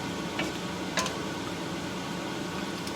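Food sizzling and frying in a pan for a syn-free sloppy joe, a steady hiss with a couple of brief scrapes as it is stirred.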